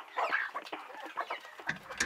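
Backyard chickens cluck nearby in a series of short, uneven, clipped calls, some louder squawks among softer notes, with no voices.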